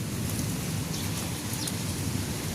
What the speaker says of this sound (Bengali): ঝুমঝুম ঝিরিঝিরি বৃষ্টি হচ্ছে